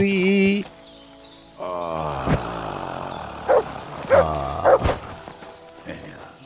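A dog barks a few short times in Kingdom Come: Deliverance II, the barks popping up over someone talking and quiet game ambience.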